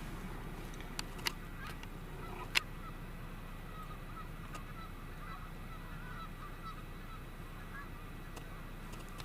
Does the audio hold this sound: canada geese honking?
yes